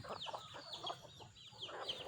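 Chickens cluck in short, repeated bursts, with a few higher calls. The sound is faint and close to moderately near, in a farmyard where fowl are kept for sale.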